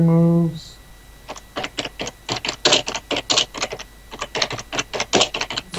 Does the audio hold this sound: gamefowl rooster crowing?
no